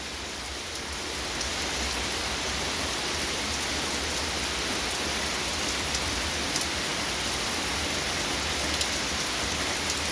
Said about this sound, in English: and we have rain.